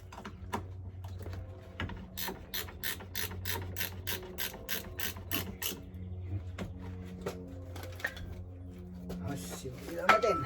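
Ratchet clicking as a bolt is snugged on the rear wheel bearing of a 2013 Jeep Compass, a long run of quick, evenly spaced metallic clicks in bursts, close by, with a low hum underneath.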